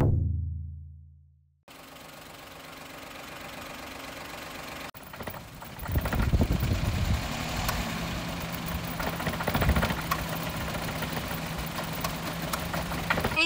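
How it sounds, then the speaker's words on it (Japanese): After a brief cranking sound, a car engine, just repaired, catches and settles into a steady, rumbling idle that continues close by without any talking. "エンジンつけてみたんですけど"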